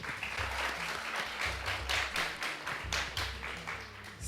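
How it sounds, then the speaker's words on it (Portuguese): An audience applauds at a cultural gathering honouring Marajoara spiritual guardians, with a burst of rhythmic, fairly close hand clapping that swells and fades in waves. "Aplausos."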